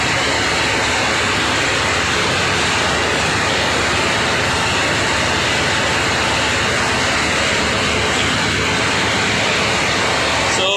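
A ship's engine runs steadily inside the engine room, a dense, loud mechanical roar filling the space without pause for the whole stretch.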